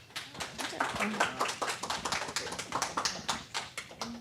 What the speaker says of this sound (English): Maybe a round of applause or.